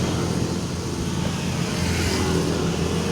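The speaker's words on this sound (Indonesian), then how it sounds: "jadi agak berisik, agak kedengaran mobil ataupun sedikit kurang nyaman suaranya ya" Loud, continuous outdoor traffic as cars pass nearby, a steady rumble and whoosh of engines and tires with no clear break.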